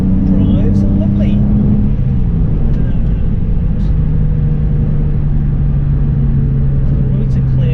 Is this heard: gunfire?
no